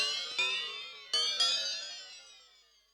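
A Roland MT-32 Water Bell synth patch rings out in three bell-like strikes, the first alone and two more close together later, each bright shimmering tone decaying slowly into a long fading tail.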